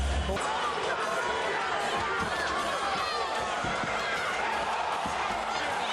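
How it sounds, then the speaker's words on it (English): A bare-knuckle fight crowd roars wildly and continuously after an overhand punch lands, a dense, loud wash of cheering and shouting with voices mixed in throughout. "you could just hear the crowd go nuts when that overhand was landed"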